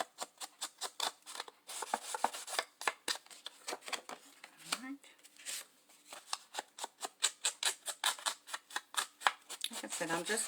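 Ends of a paper photo tag being distressed for a Christmas waterfall ornament, a rapid series of close, dry scraping and rasping strokes in quick bursts with brief pauses.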